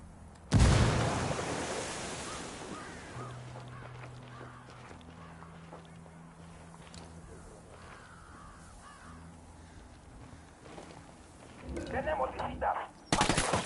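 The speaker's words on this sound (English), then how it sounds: "Opening fire." Gunfire in the video game Ghost Recon Wildlands: a loud burst at the start, then quieter shots and game noise, with renewed bursts near the end.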